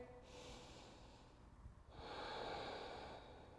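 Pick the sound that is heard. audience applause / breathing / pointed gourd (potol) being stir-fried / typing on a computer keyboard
breathing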